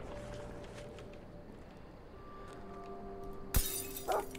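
Glass shatters in the video game The Final Station, one sharp loud crash followed by a brief tinkling burst of falling shards over a quiet ambient background.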